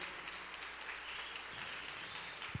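A faint, distant wash of clapping rises from a congregation at a Spanish-language church service, steady and low in level throughout.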